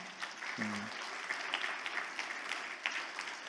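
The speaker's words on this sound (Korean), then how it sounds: "잠깐 일어나시면 우리 박수로 환영하겠습니다." A church congregation claps to welcome a visiting missionary, a soft, distant, continuous patter of applause with a brief low voice near the start.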